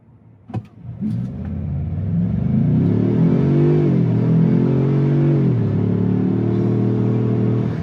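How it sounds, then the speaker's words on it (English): A Ford Maverick Lobo pickup accelerates hard in normal mode: a brief engine blip, then a loud, sustained, close rising engine drone that climbs in pitch, dips briefly at a shift and climbs again, with no talk. "I'm gonna mash on the accelerator"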